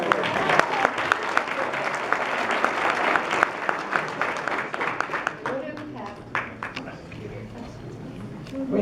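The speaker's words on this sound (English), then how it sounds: "Let's have a big round of applause." Audience applause at a workshop talk, dense clapping that swells early then thins into scattered claps with some voices mixed in over about nine seconds.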